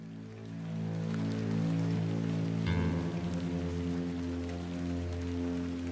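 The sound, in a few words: rain in a video game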